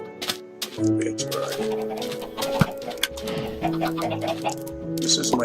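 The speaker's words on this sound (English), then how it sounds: "This is my chicken farm." Minecraft chickens on a chicken farm, with repeated clucks and squawks among layered game music tones and scattered bursts of other game sounds, fairly loud and continuous.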